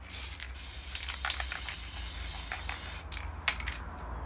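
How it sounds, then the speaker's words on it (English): Satin spray paint hisses from an aerosol can onto a Nerf blaster in short bursts, a close, airy spray repeated several times with brief pauses between passes. "you grab your satin spray and you blast this thing."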